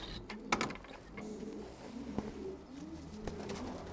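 A pet racing pigeon cooing close by, low soft warbling coos repeating over several seconds with a few faint clicks and rustles mixed in, no talking.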